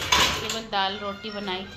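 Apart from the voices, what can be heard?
dishes and pots clattering in kitchen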